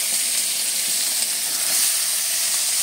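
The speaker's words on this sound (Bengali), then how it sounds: "ভাজা হচ্ছে, সবজিগুলো ভাজা হওয়ার পর ডাল যে সিদ্ধ করে রেখেছি সেটা দেবো।" Chopped vegetables for mixed dal fry in a pan with a loud, dense, unbroken sizzle and steamy hiss heard close up, without speech.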